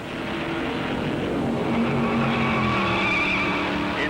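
A stock car roars loudly with a sustained engine whine, rising and shifting in pitch as it passes close by during the 1957 Southern 500 at Darlington, with no voices.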